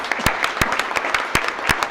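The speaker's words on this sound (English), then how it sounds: "If we could get one more round of applause for our folk scholarship recipients." An audience at a school board of education meeting applauds scholarship recipients, with a short burst of steady, loud clapping from a crowd in an indoor hall.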